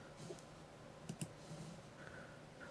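A computer mouse clicks software buttons that toggle pin states on an engine-control test board: two quick, faint clicks close together over a quiet room hum.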